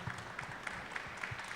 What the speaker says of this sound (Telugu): చప్పట్లు కొట్టాలిగా.